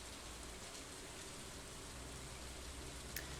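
Rain in Stardew Valley falls as a soft, even hiss of drops, steady and quiet for the whole stretch with no voices.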